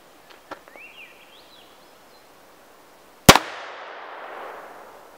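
.22 caliber gunshot fired at a TV: one sharp, loud crack after a few seconds of near quiet, followed by a rolling outdoor echo, with faint bird chirps earlier.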